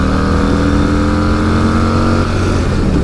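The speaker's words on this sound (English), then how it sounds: "Rev limiter." A Harley-Davidson Breakout 117 cruiser holds its big V-twin against the rev limiter, a loud, steady, buzzing roar with a slight pitch dip toward the end.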